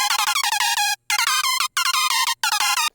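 Detuned synth lead for happy hardcore plays bright, buzzy stacked notes in fast choppy bursts, with short gaps between phrases and a faint low pulse underneath, loud and upfront.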